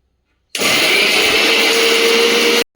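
A blender whirs loudly for about two seconds, grinding ginger into a paste, starting abruptly and cutting off sharply, close and alone with no talking.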